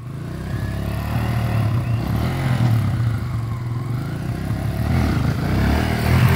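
A dirt bike engine revs hard for a wheelie, a loud, steady, throaty roar that holds for several seconds with small surges and a slight rise near the end. No voices are heard.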